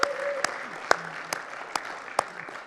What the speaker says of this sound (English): let's give Maria a hand of applause, because it is a lot of work